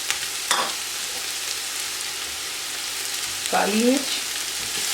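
Spices such as paprika, cumin, salt and ground red chilli frying over high heat, a steady hiss under a spoon scraping and stirring, with a short spoken word near the end.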